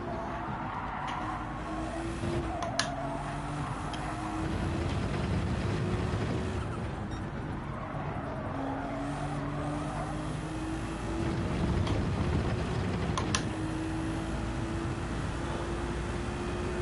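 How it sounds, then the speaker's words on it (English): A Ferrari 296 engine in Gran Turismo 7 sounds quietly through a race, its note climbing in repeated rising sweeps as it works through the gears. The engine stays fairly faint and distant. "I just noticed the engine sound pitch on this 296 sound a little bit different"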